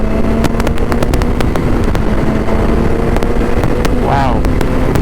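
A BMW S1000 XR motorcycle engine drones steadily in fourth gear at about 3000 revs, loud and continuous under wind buffeting, with a rider speaking briefly over it.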